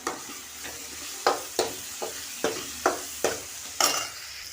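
Tomatoes frying with salt in a pan for a fish curry, a steady sizzle under a regular series of sharp scraping stir strokes, about eight in a few seconds, close and fairly loud.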